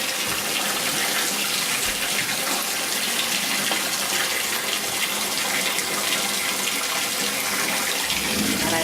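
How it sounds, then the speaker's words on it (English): Dirty water from a 5-gallon betta tank being poured out, a continuous loud rushing gush that holds steady throughout, close by. "And then I dump out the dirty water."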